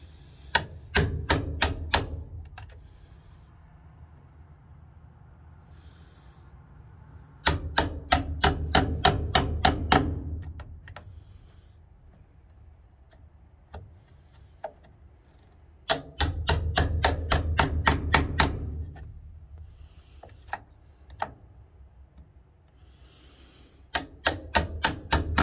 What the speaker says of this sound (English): it's a little bit cleaner with a chisel